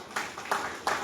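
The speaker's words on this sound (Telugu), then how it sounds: "మేడంకి ఒకసారి గట్టిగా క్లాప్స్ కొట్టాలి" Scattered hand claps from a small training audience applauding a participant, three distinct clap bursts about a third of a second apart, close and moderately loud.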